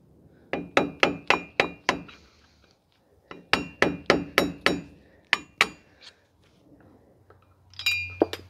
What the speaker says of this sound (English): So now we're gonna be removing the dust cap for the axle.